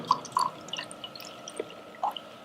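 Water poured from a laboratory beaker onto a small, thin absorbent pad lands as a few quiet, scattered drips and soft splashes with gaps of near silence between them.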